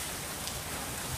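Steady rain pours down, a dense continuous hiss of drops hitting surfaces nearby, with no voices.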